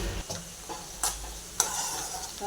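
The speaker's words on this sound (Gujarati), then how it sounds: "આપણે આ ઝીણું લીલું મરચું કાપ્યું હતું એ લેવાનું છે અને આપણે એક મિનિટ સુધી મરચાંને પણ ચડવા દઈશું" Finely chopped green chilli frying in a pan, a close steady sizzle broken by a few sharp ticks and clinks of a spoon stirring against the metal, no talking.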